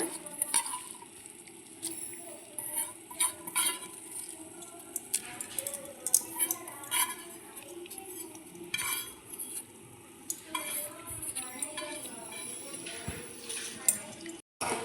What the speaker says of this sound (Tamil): பொங்கி வரும், விடாமல் கிளறி விட்டுட்டே இருங்க